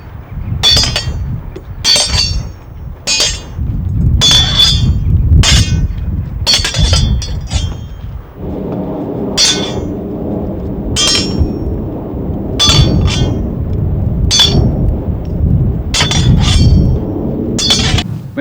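Swords clash again and again in Viking combat training, sharp ringing metallic strikes landing in an irregular rhythm, loud and close, with scuffling and movement between blows.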